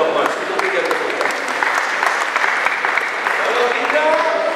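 Sustained applause from a crowd at a university farewell ceremony for a retiring professor, steady and fairly loud, with scattered sharp claps standing out and faint voices mixed in.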